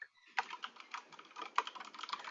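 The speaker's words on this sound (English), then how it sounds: "I'm typing that in the chat right now" Keys on a computer keyboard are tapped in a quick, irregular run of clicks, close and moderately loud, with no voices.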